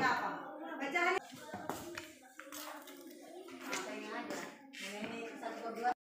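Children in an Indonesian classroom clap their hands in a counting clap game, with short bursts of claps falling between lively chanting and a teacher's voice.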